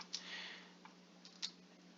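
A few sparse computer keyboard keystrokes entering a form name into a records search field, faint clicks spaced apart over a quiet background with no talk.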